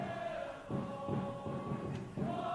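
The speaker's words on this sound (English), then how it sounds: "Crowd is singing again here at Starfire Stadium" A soccer crowd sings at Starfire Stadium during a Seattle Sounders FC match against Rio Grande Valley FC, a distant, steady chant with soft thumps rising and falling in pulses.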